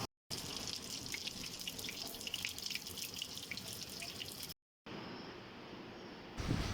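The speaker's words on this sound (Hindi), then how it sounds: "डोनट्स को मैंने मीडियम फ्लेम पर फ्राई करने के लिए रख दिया" Chicken donuts sizzle as they shallow-fry in a pan of oil over a medium flame. A steady, fine crackle and spatter continues close by with brief breaks, and no one talks over it.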